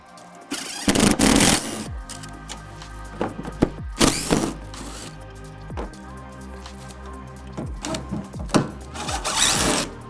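A power tool gun removes bolts during a J-brace install on a 2023+ Ford Ranger. Several short whirring bursts are separated by clunks and metallic handling noises, close up, with no talking.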